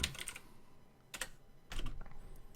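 Bursts of keyboard typing, close and clear: a quick flurry of keystrokes, a short pause, another cluster, then a longer run of tapping.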